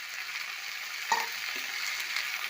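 Spring onion leaves are tossed into a pan of fried spices and green chilli for a rohu fish dish, giving a steady close sizzle with a single clink of a utensil partway through.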